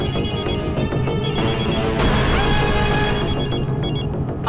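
A telephone rings loudly and continuously under a dense, busy backdrop of tones, with no voices.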